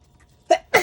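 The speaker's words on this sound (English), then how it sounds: "The sneezes sneak up on me." A single sharp sneeze, close and sudden, with a quick intake of breath just before the burst.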